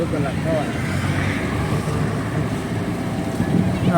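Strong wind buffets the microphone in a constant low roar at Dwarka in rain, with water or surf noise underneath and faint voices in the background.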